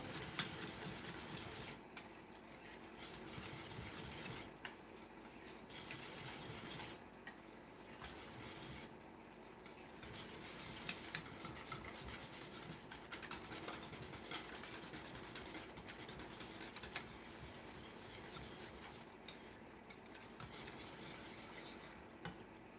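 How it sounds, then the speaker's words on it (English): A whisk stirs and scrapes a sauce mixture with Worcestershire sauce around a bowl, making a faint, continuous rubbing and scraping sound with uneven strokes and no talking. "whisk that together. Make sure you scrape the sides of your bowl."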